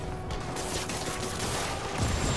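Rapid automatic gunfire in the 2018 video game Marvel's Spider-Man: a dense, loud barrage of shots and mechanical clatter running continuously for a couple of seconds.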